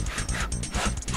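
A dog in Resident Evil 7 makes quick, close, rhythmic panting and whimpering sounds in short repeated pulses.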